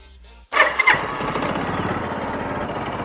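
A Suzuki TU250 motorcycle engine cranks and catches after a short pause, briefly revving before settling into a steady close idle with a regular low thumping beat, with no talk.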